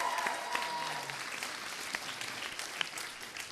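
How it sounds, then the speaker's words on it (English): Sustained applause from a theatre audience at a variety show's closing night, steady clapping at moderate distance with a few sharper individual claps standing out. "Let's give them a round of applause."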